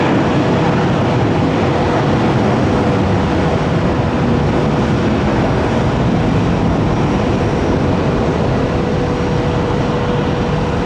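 An airliner takes off at Tampa airport, heard as a loud, continuous broadband jet roar that stays steady and dense throughout, with nothing else standing out.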